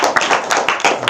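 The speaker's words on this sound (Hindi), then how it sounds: "तो बहनों के लिए ताली बजाओ।" Audience members at a spiritual gathering clap in a brisk, uneven burst, individual hand claps standing out sharply and close within a short stretch of applause.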